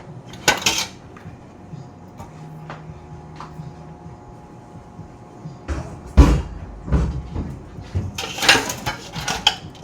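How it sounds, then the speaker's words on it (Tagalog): Dishes, pots and cutlery being washed by hand at home in Quezon Province, with sharp clinks and clatters scattered throughout, growing busier and louder toward the end. "hugas muna tayo ng pinggan"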